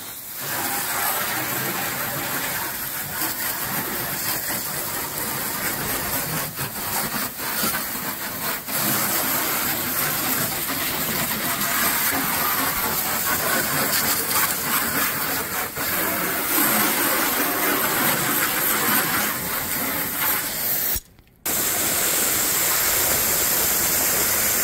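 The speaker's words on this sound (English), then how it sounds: "It's time to get the hose out." A garden hose sprays water steadily over a vintage 1975 Ski-Doo Olympique 300 snowmobile, a loud continuous rushing hiss that runs almost unbroken for the whole stretch, with one brief cut-off near the end.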